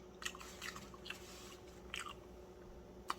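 Fried fish is bitten and chewed close to the mic, giving a few quiet, irregular crunches over a steady low background hum.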